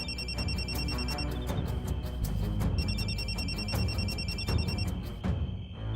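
An incoming call sets a telephone ringing in repeated bursts of bright electronic trills with short gaps between them, loud and close over a steady background, with no one speaking.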